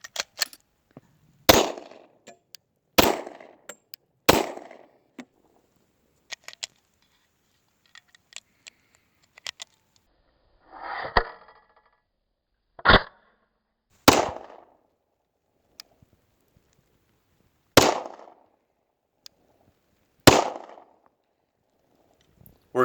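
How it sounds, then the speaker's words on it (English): A Glock pistol fitted with an upgraded slide release fires single rounds in short strings of about three, each a sharp loud crack with a decaying tail, separated by quiet pauses and faint handling clicks. "Here I'm only loading 3 rounds at a time, making sure the gun functions on the first 2"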